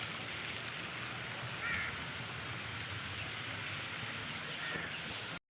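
Soft, steady rain hiss fills the background evenly, faint and continuous with no talking, ending in an abrupt cut.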